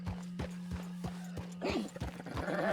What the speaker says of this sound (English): Can I get off this cliff without killing my horse?